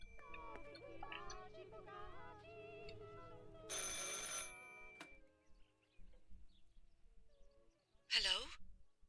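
Telephone ringing inside the horror game Martha is Dead, an old-style bell ring bursting out in short trills between stretches of quiet, with a voice sighing and murmuring earlier on.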